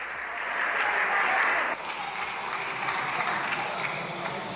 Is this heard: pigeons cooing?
no